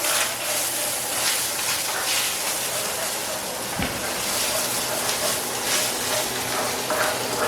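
Food fries in a cast iron skillet with a loud, steady sizzle that runs without a break, with a brief thud near the middle.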